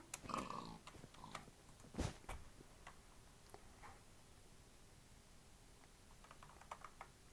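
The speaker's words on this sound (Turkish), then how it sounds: "Köpeğim havladı." A dog barks indoors in a couple of short, faint bursts. Quiet keyboard clicking and tapping continue in the background.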